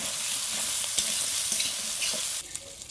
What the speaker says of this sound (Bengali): এবারে ভেজে রাখা আলুগুলো দিয়ে একটু নাড়াচাড়া করে